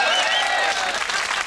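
Studio audience applause on a late-night British comedy show, a loud, even burst of many hands clapping, sustained throughout with a faint tonal voice trailing over the start.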